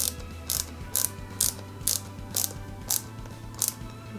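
A flat-head screw driven into a Peugeot 205 GTI 1.9 model kit, heard as a regular series of eight sharp ratcheting clicks about half a second apart, close and crisp over a low steady hum.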